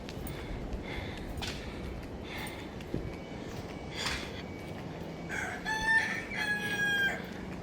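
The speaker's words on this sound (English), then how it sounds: "And roosters proudly clucking in the front yard." Roosters cluck and crow outdoors in a front yard on Tuvalu, with a clear cock-a-doodle-doo near the end over soft background noise and scattered clucks throughout.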